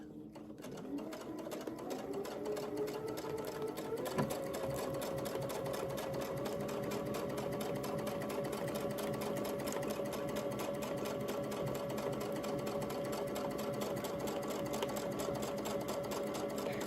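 A sewing machine stitches an overall quilting pattern through fabric, running as one continuous, steady mechanical whir with no pauses from start to finish.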